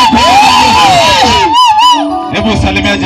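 A church congregation lets out high, wavering ululation, loud and close, rising in shrill trilling bursts from many voices together in a lively worship service.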